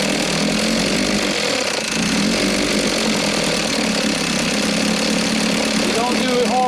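A 6 hp Evinrude outboard motor idles steadily and loudly throughout, with a constant mid-pitched drone and a voice speaking over it.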